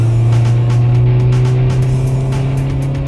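Porsche Macan facelift engine and exhaust under way, a loud, continuous low drone with steady tone throughout, no clear pops or gear-shift bursts standing out.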